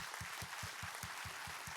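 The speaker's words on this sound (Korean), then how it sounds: "우리 하나님께 감사와 영광의 박수 올려드리겠습니다" A church congregation claps in praise during a Korean Sunday worship service, about eight rhythmic unison claps in a steady beat across a short stretch.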